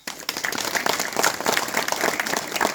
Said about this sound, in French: et qu'on peut applaudir.